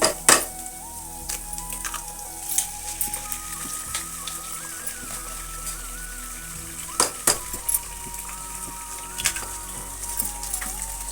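Egg hits a hot frying pan for chicken egg fried rice, giving a steady soft sizzle broken by sharp clinks and scrapes of a metal utensil against the pan.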